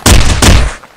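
Two loud shotgun blasts in quick succession in a comedic video game, heavy booming shots close together, each with a short rumbling tail, with no talk.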